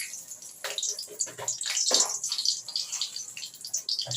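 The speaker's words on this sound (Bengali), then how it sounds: "আমি এবার দুটো লঙ্কাকে ফোড়ন দিলাম" Two chillies crackle and sizzle in hot oil as a tempering for a vegetarian matar dal with flat beans and raw tomato, a close, busy hiss with irregular spitting bursts and no voices.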